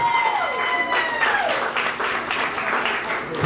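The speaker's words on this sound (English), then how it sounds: "Big round of applause." A crowd at a taco eating contest and comedy show bursts into steady, loud applause for a contestant who has just tapped out, with a few whistles rising over the clapping throughout.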